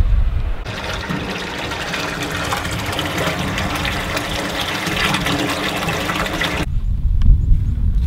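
Water gushes steadily into a pot outdoors for several seconds, then the flow stops, leaving quieter background noise.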